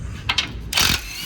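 A ratchet drives an 18mm socket on the skid plate and transfer case hardware of a Jeep 4.0, giving two quick close mechanical bursts and then a slightly longer clicking run.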